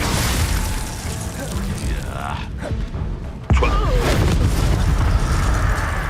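A Confringo spell explosion in the video game Hogwarts Legacy erupts as a sudden loud boom partway through, then a heavy, sustained rumble of blast noise fills the rest.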